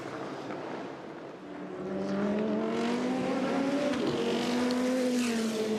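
A race car runs down the Le Mans pit lane at an endurance legends event, its engine note rising and growing louder as it approaches. Crowd ambience sits underneath, and there is no speech.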